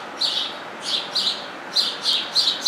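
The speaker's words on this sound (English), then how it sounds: "Birds decided to scream on me." Several birds chirp loudly and close by outdoors in repeated shrill bursts, about six calls spread across a few seconds with brief pauses between them.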